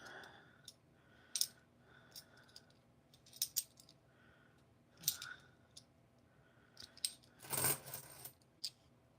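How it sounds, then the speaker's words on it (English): Coins drop one after another onto a hard surface as they are sorted, giving sharp metallic clinks and rattles at irregular intervals, close and clear, with a louder jangling cluster near the end and a quiet background. "we are pumping through the coins tonight"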